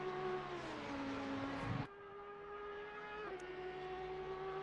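An Audi GT3 V10 racing car in a racing video game screams at high revs, then drops sharply through a downshift, the engine note falling and settling into a steady lower drone with another brief shift.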